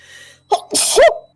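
A single sharp human sneeze bursts out close to the microphone after a short breathy intake, with a faint bit of room noise before it.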